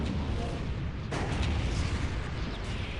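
An Imperial Guard artillery cannon fires in the real-time strategy game Dawn of War: Ultimate Apocalypse, a single loud boom with a sharp onset about a second in, over dense, rumbling battle noise.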